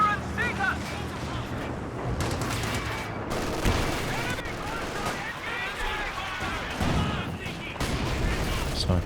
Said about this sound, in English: Commissar using the fair propaganda artillery there